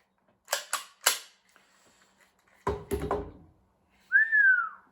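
T77 mini Uzi gas blowback airsoft replica from Taiwan, run on HFC gas, fired on full auto: a few short, sharp bursts of rapid snapping shots separated by pauses, then a brief whistling tone.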